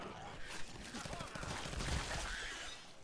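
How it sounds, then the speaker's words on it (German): Bursts of gunfire in Fallout 4 crackle in rapid overlapping volleys at moderate distance, layered beneath game ambience. "da schießt tatsächlich jemand"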